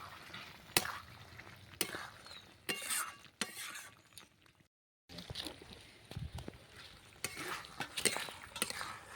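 Salt being stirred into a pointed gourd and shrimp curry, with scraping spoon strokes and clattering against the pan in irregular bursts over a faint simmer, broken by a short silent gap midway.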